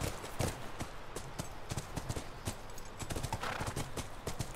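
Horse hooves clip-clop in The Last of Us, a steady run of sharp, close hoofbeats with a brief snort or whinny mixed in.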